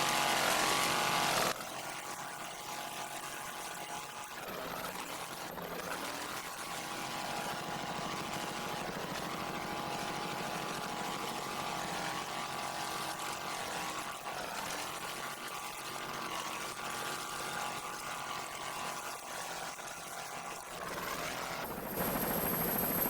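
A video crew helicopter flying over the 1993 offshore powerboat race at Fort Lauderdale, its rotor and engine droning loud and steady throughout with a constant dense roar.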